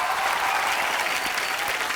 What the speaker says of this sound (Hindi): जोरदार तालियां एक बार कार्तिक के लिए।